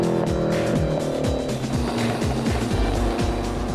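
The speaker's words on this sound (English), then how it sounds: "You can really hear his gear changes so much quicker" A front-engine scrapheap-built race car snaps through quick gear changes on a bendy track, with a rapid series of engine drops and rises and some tyre squeal, heard at moderate loudness.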